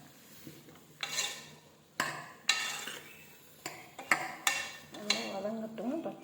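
Moong dal and bottle gourd kootu is stirred in a pot, with a series of quiet scraping and clinking strokes of a spoon against the metal, spaced irregularly and heard close up.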